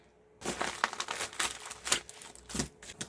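Plastic wrapping on a package of craft supplies is torn and crinkled open, a close run of crackling rustles and sharp crinkles after a short silence.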